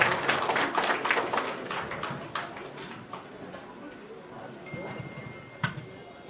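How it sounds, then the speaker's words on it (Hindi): A Karni Sena gathering in Jharkhand erupts in applause welcoming Praveen Singh, a dense clatter of clapping that fades after a few seconds into scattered claps and room noise. "जोरदार तालियां होनी चाहिए इनके लिए"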